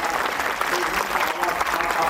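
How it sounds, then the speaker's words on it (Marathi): Applause for the kirtan accompanists fills the hall, a dense continuous wash of many hands clapping, loud and even throughout the short burst. "लेकरांना एकदा टाळ्या वाजवा"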